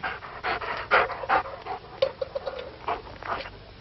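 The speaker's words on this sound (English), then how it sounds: "The dogs." Dogs panting close by in quick, uneven bursts of breathy huffs, with a few faint whimpers mixed in and no voices.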